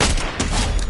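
Gunfire from a sniper rifle in the video game Fortnite, a loud dense blast that fills the short moment, with the roar rising again near the end.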